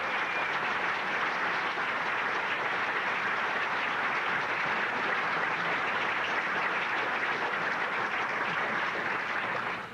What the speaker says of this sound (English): how about one more hand for all of the members of the Hall of Fame class of 2007